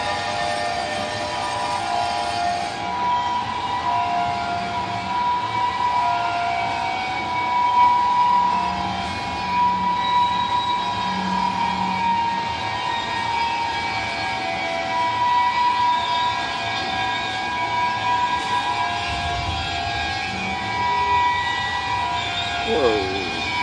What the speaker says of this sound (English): You have two trains on the right hand side, one at full speed, one barely moving, and making a heck of a lot of noise at the same time.